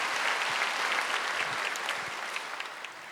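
A church congregation at a Wednesday service claps enthusiastically, a thick wash of applause that softens slightly toward the end.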